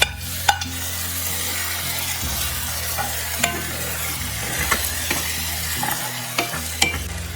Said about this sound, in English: And I'm going to throw in the tomatoes.